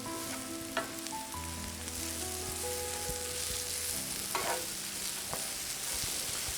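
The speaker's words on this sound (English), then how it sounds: "this is the point where you start adding in the cabbage. And make sure you really stir that in." Cabbage frying with onions and spices gives a soft, steady sizzle as it is stirred in the pan. A few faint scrapes sit over low background tones, and the whole sound stays quiet and close.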